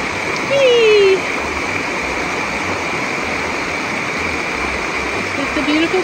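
Waterfall at Charco Azul pouring over the top after some rain, a steady loud rush of falling water throughout, with brief bird-like whistles and a short burst of voices over it.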